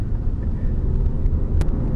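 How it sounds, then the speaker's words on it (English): A motorcycle engine rumbles low and steady during a ride, close and fairly loud for a couple of seconds, with no speech over it. "Your bike sounds funny today"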